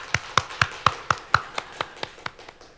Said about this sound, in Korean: 우리 이럴 때 박수라도 한번 하나님께 했으면 좋겠습니다